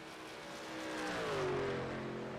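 A race truck engine in the iRacing simulator at Indianapolis during a YESCAR Truck Series round, a faint engine whine rising and falling in pitch as it swells briefly, with no talk.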